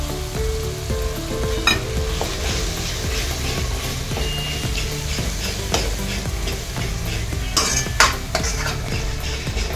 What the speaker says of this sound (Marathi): आता यात मी हे 200 ग्रॅम दही आहे ना हे देखील सोडून चांगलं परतून घेणार आहे।